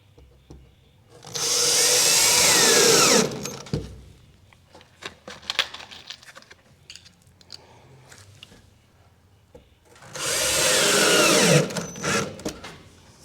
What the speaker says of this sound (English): I'm going to use extra screws here to put them into the studs